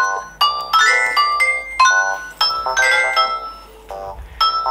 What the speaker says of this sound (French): regardez ma nouvelle sonnerie,